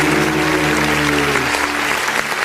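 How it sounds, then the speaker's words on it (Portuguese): A church congregation claps during an online worship service, loud, dense clapping over sustained music tones that drop away partway through. "E as palmas engrandecem o nome de Jesus."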